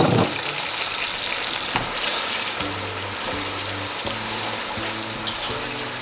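Ingredients sizzle and fry in hot oil in a pot for an oxtail curry stew, a loud continuous crackle close up with occasional stirring clatter.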